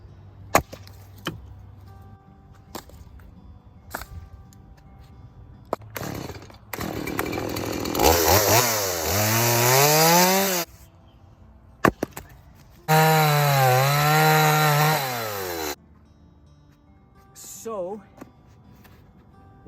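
A chainsaw cuts logs into shorter pieces for splitting, with two long, loud revving cuts whose engine pitch sweeps up and down, separated by idle pauses and brief talk.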